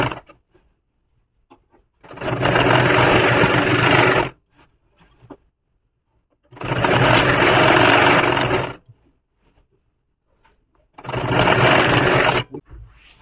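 A sewing machine stitching piping onto the slit of a kurti runs in three steady bursts of about two seconds each, loud and close, with silent pauses between them and no talking.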